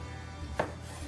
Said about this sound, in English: Like I'm gonna go ahead and cut this